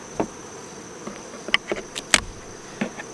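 Bees hum faintly around an Apimaye honey beehive during a harvest, under sharp, scattered clicks and knocks.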